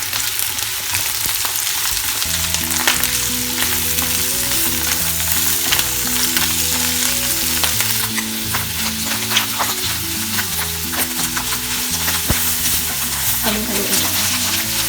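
Beef salpicao with mushrooms is stirred in a sizzling frying pan, a continuous loud fry with spoon scrapes over steady background music.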